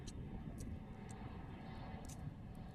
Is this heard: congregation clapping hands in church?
no